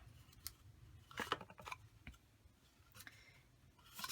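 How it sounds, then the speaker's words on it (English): Small snips trim excess paper off a papercraft matchbox slider box, making a few faint, close, crisp snipping clicks. "we'll just take our snips and snip that right off"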